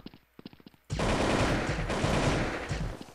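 Video game gunfire: a few quick sharp pistol shots, then a dense, loud burst of rapid continuous shooting that fills the rest of the clip.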